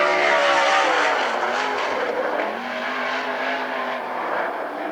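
A sprint car roars around a 3/8-mile dirt oval on a qualifying lap at the Central Washington State Fair, its engine a loud, high-revving snarl that shifts pitch through the turns and fades slightly as it moves away.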